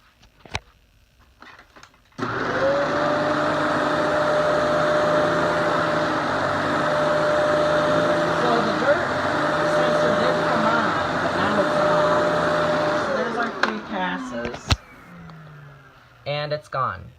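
A Kenmore Elite vacuum cleaner switches on and picks up debris from a wood floor, its steady motor roar with a sustained whine running about eleven seconds before winding down amid a few clattering knocks.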